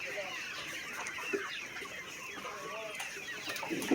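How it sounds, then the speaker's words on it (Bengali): Broiler chickens weighing about 1200 to 1300 grams cluck and chatter in a poultry shed, a dense, fairly faint, continuous chorus of calls at mid distance. "এই দেখুন কত সুন্দর মুরগি হয়েছে।"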